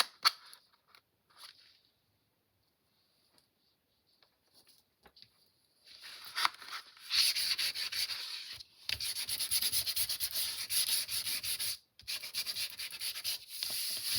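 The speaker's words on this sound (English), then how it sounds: "Sand off the edges a little bit here." Sanding along the edges of a paper journal card for a Christmas folio, a dry scratchy rubbing that starts after several seconds of near quiet and then runs steadily and close, with one brief pause near the end.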